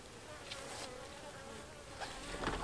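Honey bees buzz around a five-frame nuc in spring, a soft, steady drone close by with a few louder passes as bees fly near. No one speaks.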